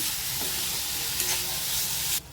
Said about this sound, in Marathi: आता हे खोबरं आणि गुळाचं मिश्रण टाकूया सर्व मिक्स करून घेऊया गूळ वितळेपर्यंत